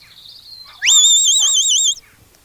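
A sheepdog training whistle gives a short rising note, then a loud, steady, warbling high tone held for over a second, alone apart from faint background noise.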